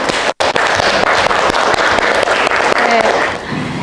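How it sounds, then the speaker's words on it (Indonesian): Classroom applause from a group of students, dense steady clapping filling the room for several seconds after a brief gap, loud and close, tapering slightly at the end. "Aplaus untuk kita semuanya."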